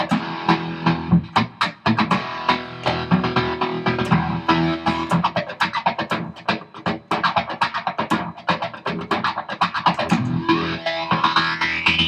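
Heavily distorted electric guitar, through a Boss Slicer pedal with distortion on, plays a rapid run of picked notes and chords, gritty and sustained, with no voices.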